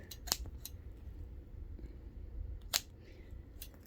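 Two sharp snips of scissors, a couple of seconds apart, close and fairly quiet against a low background hum, with a faint click at the end.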